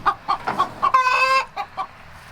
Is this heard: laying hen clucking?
yes